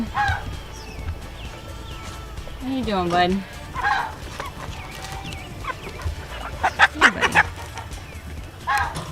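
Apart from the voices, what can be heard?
guinea fowl calling loudly on a farm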